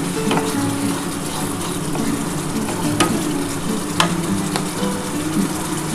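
Pomfret fish sizzles steadily in hot oil in a pan after going in with slit green chillies, a continuous close frying crackle with faint clinks of utensils and no voices.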